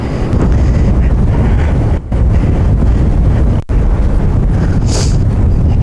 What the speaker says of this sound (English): but I can feel the wind.